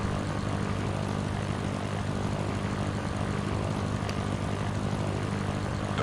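The propeller engine of a Cessna drones in the Sierra Pro Pilot simulator, a steady, loud, unbroken hum with low tonal layers that holds evenly throughout.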